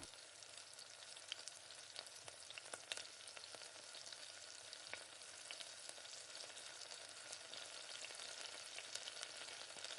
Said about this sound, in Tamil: தக்காளி வதங்கிறதுக்கு கொஞ்சமாக கல் உப்பு சேர்த்து நல்லா வதக்கி விடுங்க